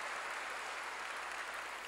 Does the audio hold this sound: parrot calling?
no